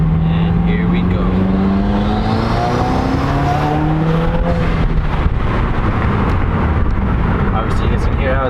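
A 2018 Subaru WRX fitted with a Mishimoto performance intake accelerates with the windows down, its engine note climbing steadily in pitch, loud and close, holding a continuous rising drone throughout.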